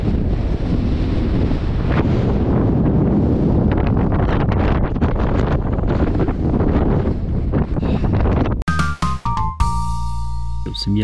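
Strong wind on the Col d'Izoard mountain pass buffets the microphone in a loud, continuous, rumbling roar, then cuts off abruptly near the end as the recording moves out of the wind.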